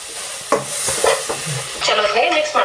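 A spoon stirs milk in a pan while it cooks down for Dharwad peda, giving close scraping strokes with a faint sizzle underneath; the strokes come at an irregular rhythm and grow busier toward the end.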